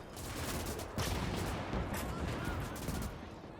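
Machine gun crews fire in a Gates of Hell battle, producing dense continuous rattling gunfire layered with booming battle noise, loud and chaotic throughout the short stretch.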